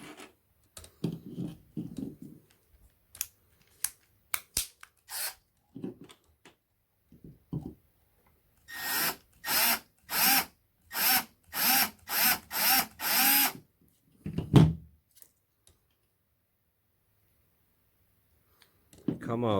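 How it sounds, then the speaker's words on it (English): A small power drill bores into the window of a Lancia Stratos scale model car during a restoration, giving about eight short, loud whirring bursts in a row after a few scattered clicks and handling sounds in a quiet room. "the window is attached, so I need to drill that as well"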